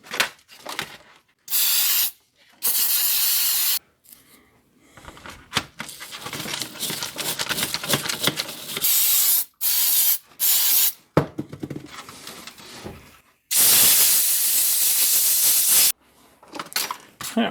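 An aerosol spray can cleans a greasy steering column on a 1991 Ford F-150, with several loud, close bursts of hissing spray separated by pauses, scrubbing and handling noises.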